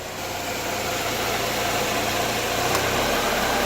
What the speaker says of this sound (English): As you can see, the compressor just kicked on and still no weird vibrations.